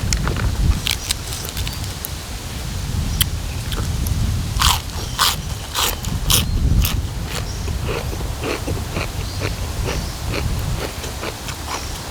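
Crunchy bites of fresh black tiger prawn sashimi topped with seafood dipping sauce, close and repeated: a burst of sharp crackling crunches in the middle, then softer wet chewing with a steady low background underneath.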